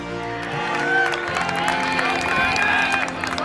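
Crowd noise at an MLW wiffle ball game in Brooklyn, a steady murmur of cheering and applause from spectators that keeps going for the whole stretch, with faint tonal sounds above it.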